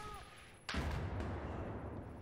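A single sharp, loud shot in a video game erupts suddenly and rolls out into a long, low booming echo that lingers to the end.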